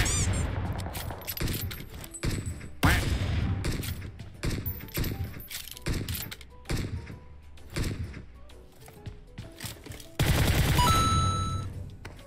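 Rifle fire in the PUBG Mobile battle royale game, with a sound like an SKS: repeated sharp shots in uneven bursts through the clip, and a louder burst near the end.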